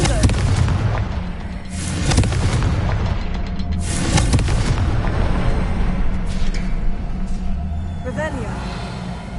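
Fire-spell explosions in the video game Hogwarts Legacy go off as several loud booming blasts with crackling tails, one after another over game background noise.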